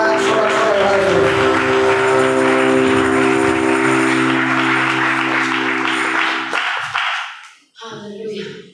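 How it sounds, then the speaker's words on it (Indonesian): Church congregation at a Pentecostal revival service applauding and cheering, a loud sustained wash of clapping and voices with a musical drone underneath, fading out near the end. "Sekali lagi berikan tepuk tangan sorak-sorai haleluya"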